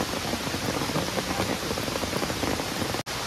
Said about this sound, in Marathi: वाटलं नव्हतं की पाऊस येईल पण भरपूर पाऊस आला आहे